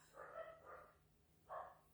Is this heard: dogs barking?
yes